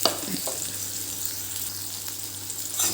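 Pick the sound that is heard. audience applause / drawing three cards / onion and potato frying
onion and potato frying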